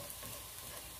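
Garlic for spaghetti frying in a pan, a steady dense crackling sizzle that stays even and fairly close throughout with no pauses.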